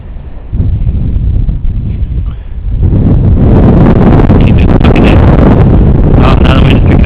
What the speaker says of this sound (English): Oh, now the wind's picking up again.